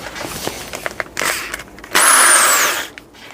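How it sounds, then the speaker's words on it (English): A power drill bores a hole into the wooden back of a handmade clock: a few short taps and bursts, then a sustained whining run for about a second that tapers off as the bit stops. "let's get the hole drilled."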